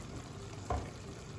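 Masalas added to a pan of Indian chicken curry give a soft, steady sizzle with one brief louder burst partway through, quiet and close, with no talking.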